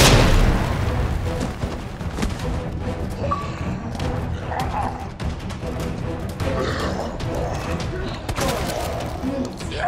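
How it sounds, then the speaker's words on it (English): Grenade explosions in the video game Resident Evil 2 Remake, a loud burst of booms and thuds at the start, followed by continued rumbling impacts and clattering under a dense, noisy mix. "Grenades."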